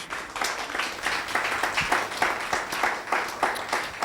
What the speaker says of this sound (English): She will not speak unless there is a thunderous applause.